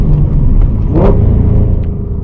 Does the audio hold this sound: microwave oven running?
no